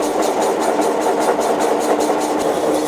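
A steady, droning mechanical grinding hum with a faint rhythmic pulse from pulverizer grinding wheels rolling smoothly together after being made round again, loud and continuous throughout.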